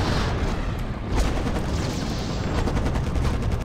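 Units open fire in the Act of War: Direct Action strategy game, a dense, continuous clatter of gunshots and booming blasts running the whole time at steady loudness.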